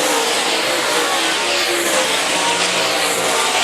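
Hobby stock race cars roaring around a dirt oval track at Raceway Park, a dense continuous wash of engine noise from several cars at a distance, with no letup.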